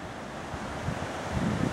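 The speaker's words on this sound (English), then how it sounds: "you're constantly within earshot of the creek" A creek rushes steadily through a gorge of cascades and small waterfalls at Mill Creek Falls in Giles County, Virginia, a close, continuous broadband wash of flowing water.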